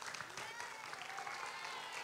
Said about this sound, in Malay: itu dia tepukan untuk kawan-kawan kita